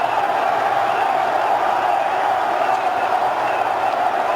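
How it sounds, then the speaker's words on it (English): A cricket stadium crowd at a Bangladesh versus India match hums and cheers steadily, a continuous dense roar of many distant voices holding at an even level without a peak. "Hear the crowd. Feel the build."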